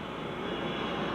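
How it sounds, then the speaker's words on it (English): A plane takes off over Baghdad during the 1991 Gulf War, heard as a steady, broad, rushing engine roar at moderate distance, unbroken for the whole short moment. "Planes are taking off"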